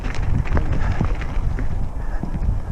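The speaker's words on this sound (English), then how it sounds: "Horse riders, miniature horses" Several horses with riders move along a rough countryside trail, giving a steady, close run of hoof clip-clops over wind noise, with no voices.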